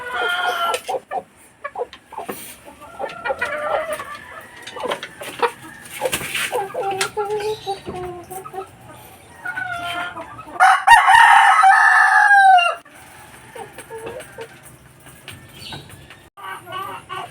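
Chickens cluck and a rooster crows loudly nearby, the crow standing out for about two seconds amid continuous farmyard clucking and bird calls.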